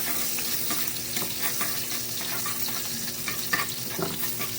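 Garlic sizzles and crackles steadily in a hot pan for paksiw na pata, with scattered sharper pops and the scrape of stirring, loud and close, with no talking.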